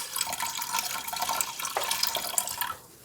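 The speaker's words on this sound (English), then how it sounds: "in the Instant Pot, I'm going to pour in some chicken broth" Chicken broth poured into an Instant Pot over a trivet for a turkey dinner, a steady close splashing trickle of liquid lasting about three seconds before tapering off.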